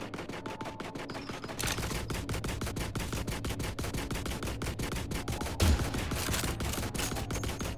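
Shots ring out in The Last Caretaker, a steady run of sharp, evenly spaced reports that grows louder after a short quieter start, with one heavier blast partway through and no voices.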